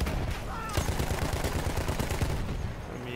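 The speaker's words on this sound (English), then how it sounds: "Who's shooting me?" Gunfire in the video game Battlefield 1, rapid bursts of shots crackling in quick succession over a dense battle din, fairly distant and muffled.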